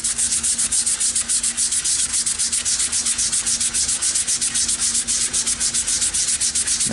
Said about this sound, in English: I just sanded, dry sanded, the whole way up to 220 grit